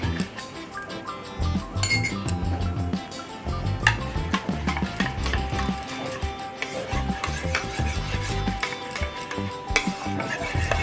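A spoon scrapes and clinks against a bowl while stirring yogurt mixed with black salt for cucumber raita, producing continuous close rubbing and wet scraping with occasional light metallic taps against the bowl's edge.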